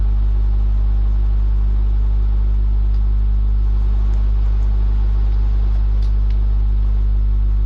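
A van engine drives at low speed in Roblox Lumber Tycoon 2, giving a steady, loud, deep droning hum with no change in pitch and no one speaking.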